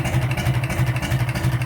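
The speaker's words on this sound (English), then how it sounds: "First time hearing it run with a stack on it." A Farmall M tractor engine idling through a 5-inch straight pipe stack, a loud close-up steady low chugging with an even rhythmic thump and mechanical clatter.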